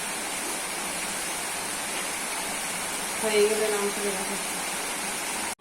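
Water poured into a cooking pan of fried pointed gourd and spices for a Bengali lentil dish, a steady rushing gush that swells briefly toward the end, with no talk.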